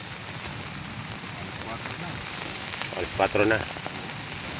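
Heavy rain patters densely on a camping tent, a constant hiss of drops, while people talk briefly near the end.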